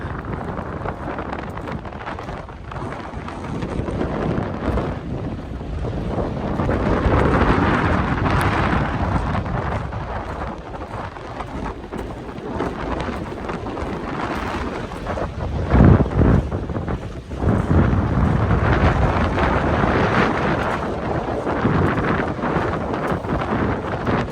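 Strong wind buffets the microphone in green, open countryside of rural Victoria, Australia, a loud, continuous roar with gusts that swell and ease and sharp thumps of blasts against the mic, with no other sound over it.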